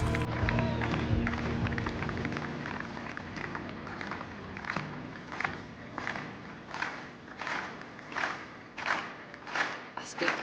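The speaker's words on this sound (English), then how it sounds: "Wir klatschen mit für Charity Hofnagel" Stadium crowd at the Heilbronn high jump meeting clapping along in a steady rhythmic beat for high jumper Charity Hofnagel, the claps growing more even and pronounced as they continue, with an announcer talking early on.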